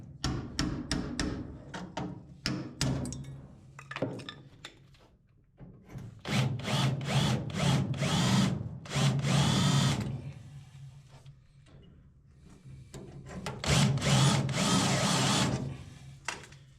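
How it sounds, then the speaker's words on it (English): A power drill bites through two layers of thin sheet-metal floor pan in repeated bursts, first in short choppy pulses and then in longer sustained runs with brief pauses between them. The drilling is close and loud, and nobody speaks. "how easy it is to drill through both layers of thin sheet metal"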